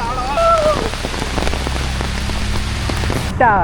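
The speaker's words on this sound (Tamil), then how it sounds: "செம்ம மழை" Heavy rain pours down steadily on a monsoon trek to Dudhsagar Falls, a dense, loud hiss of drops hitting surfaces, with brief faint voices at the start and end.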